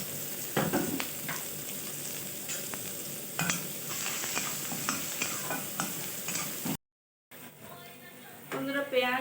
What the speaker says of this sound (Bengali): এবার তেলের মধ্যে দিয়ে দেবো গোটা জিরে, দিয়ে দেবো এখানে আদা কুচি আর পেঁয়াজ কুচি।